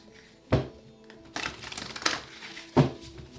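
Tarot cards are shuffled close by in a few quick riffles and slaps, with papery crackles between sharp bursts.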